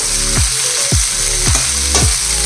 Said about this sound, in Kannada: ಸ್ವಲ್ಪ ಈರುಳ್ಳಿ ಗೋಲ್ಡನ್ ಕಲರ್ ಬರೋವರೆಗೂ ಫ್ರೈ ಮಾಡಿಕೊಂಡು